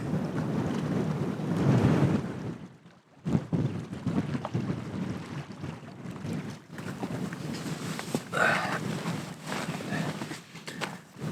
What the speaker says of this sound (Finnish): tuuli näyttää pikkusen rauhoittuvan